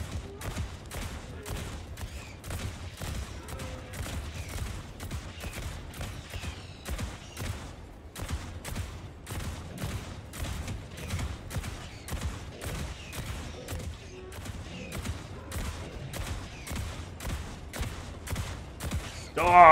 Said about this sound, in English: I suppose you can shoot both at the same time.